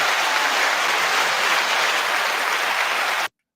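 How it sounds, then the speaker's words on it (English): An audience at a live show breaks into loud, sustained applause, a dense wash of clapping that continues steadily before cutting off abruptly. "I'm going to give her a little extra long applause"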